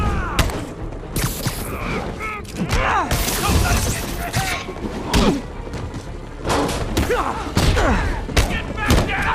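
Grenade blasts and heavy thuds go off in a Spider-Man PS4 video game fight at a prisoner camp outpost, repeated booms and impacts layered among shouting game voices.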